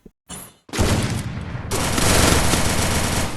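Rapid automatic gunfire rattles in a video game shootout, a dense continuous burst after a brief pause, loud and close with no talk over it.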